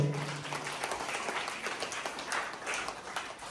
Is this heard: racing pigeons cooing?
no